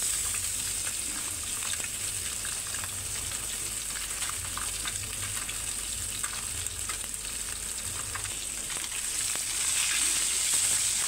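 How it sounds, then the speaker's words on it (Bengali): Koi fish fry in oil in a frying pan, a steady, close crackling sizzle that runs unbroken throughout with no voices. "খুব সহজে মাছগুলো ভাজা হয়ে যাবে"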